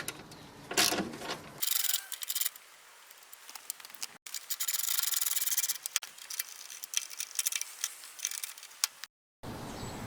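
A driver undoes T40 Torx bolts on an MTD Yardman DX70 ride-on mower with a loud exhaust, giving rough ratcheting, grinding metal clicks in bursts broken by short silent gaps.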